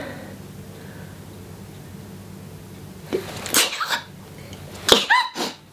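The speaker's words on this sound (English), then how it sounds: "oh I'm gonna sneeze." One person sneezes, a sharp breathy burst, then a second loud sneeze follows about two seconds later, both close and clear over a quiet room.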